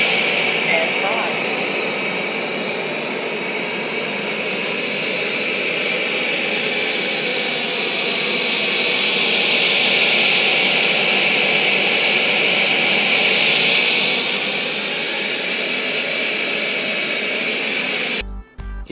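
A loud, steady roaring whoosh of a Roborock S7 robot vacuum running at maximum suction, constant throughout, cutting off abruptly at the end.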